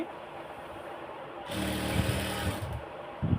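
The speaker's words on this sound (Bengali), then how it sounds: "আমি সেলাই দিয়ে নিচ্ছি" A tailor's sewing machine runs a short burst of stitching through two layers of georgette fabric, a close, fast mechanical whirr lasting about a second amid a quiet room.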